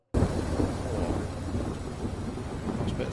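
Loud rolling thunder in the Cityconomy garbage collection and recycling game, a deep continuous rumble that starts abruptly and stays heavy throughout, with no talk.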